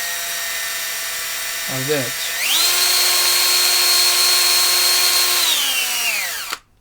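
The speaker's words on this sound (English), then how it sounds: "Let's put it in the drilling machine." A drilling machine spins a shaft fitted with a Hall effect sensor setup, its motor whine rising steadily after a brief spoken word, holding a loud constant pitch for several seconds, then winding down sharply at the end.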